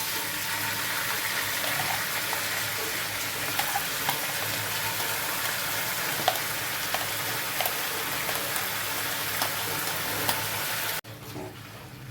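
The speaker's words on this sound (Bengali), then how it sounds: "এবার আমি ভাজা মশলাগুলো দিয়ে দেব।" Chicken fries in a kadai with fried spices, a dense constant sizzle with occasional light clicks of stirring, close and steady, dropping abruptly to a quieter hiss near the end.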